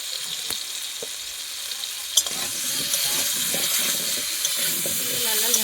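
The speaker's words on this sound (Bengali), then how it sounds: "তেলের মধ্যে কেটে রাখা আলুগুলো দিয়ে দেবো।" Cut potatoes fry in oil with turmeric for a pointed gourd and prawn dish, making a steady, close sizzle and crackle. A few sharp clicks and scrapes of stirring punctuate it, and the sizzle grows slightly busier toward the end.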